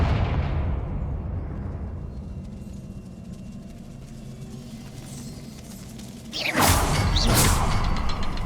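In Hogwarts Legacy a Confringo spell is cast, opening on a fading rumble and then a loud, close fiery blast with a bright whooshing burst.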